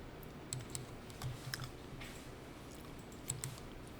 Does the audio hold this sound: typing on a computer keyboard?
yes